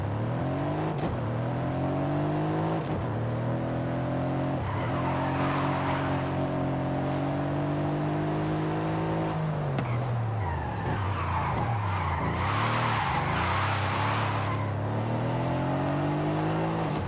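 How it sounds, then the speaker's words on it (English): An all-wheel-drive car with a front-mounted twin-turbo V8 in Forza Horizon 5 holds long, loud revving engine pulls through gear changes, then slides into a drift with tire squeal and skidding under the roaring engine. "since this car has a big V8 up front with turbos and it's all-wheel drive"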